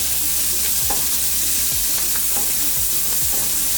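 Freshwater mussels from Maine fry loudly in a pan, a dense constant sizzle with periodic scraping strokes of a spoon stirring them, close up and without speech.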